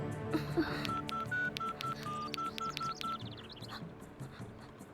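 Telephone keypad tones ring out as a number is dialed, a rapid series of about ten short, evenly spaced beeps in a scene from a Hindi-dubbed romantic comedy film, with faint room noise behind and a brief quiet tail.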